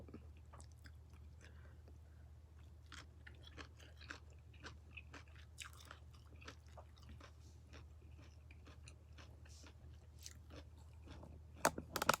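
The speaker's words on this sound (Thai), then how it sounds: "นานๆได้กินหอยแมงภู่" Green mussels being eaten close to the mic, with soft wet chewing and scattered crunchy bites over a low steady background hum, growing a little louder at the end.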